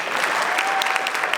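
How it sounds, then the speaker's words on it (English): Steady, dense clapping from a crowd at a luncheon, loud and continuous throughout. "Give him a round of applause."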